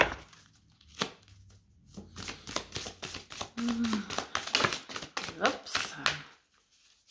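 Metatron oracle cards being handled and shuffled, with a run of quick papery riffles and taps that thicken in the middle. A voice speaks over parts of the handling.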